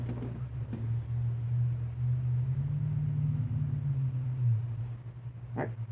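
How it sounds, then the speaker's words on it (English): A loud car rumbles past outdoors, a deep steady drone that swells to its peak midway and then fades, with no talk over it. "That car is loud out there."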